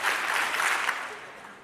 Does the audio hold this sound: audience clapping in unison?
yes